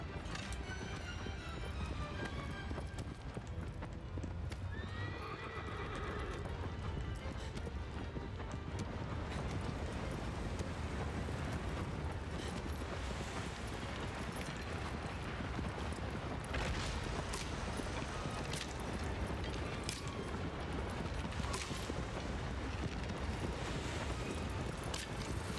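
A horse gallops in the PS4 game Shadow of the Colossus, with steady rhythmic hoofbeats running on through wind noise for a long stretch, loud and continuous.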